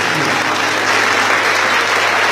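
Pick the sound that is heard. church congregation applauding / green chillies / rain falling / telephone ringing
church congregation applauding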